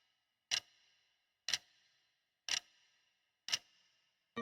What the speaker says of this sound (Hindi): एक रात ठीक 3:17 बजे उसे हल्की सी टिक टिक की आवाज सुनाई दी।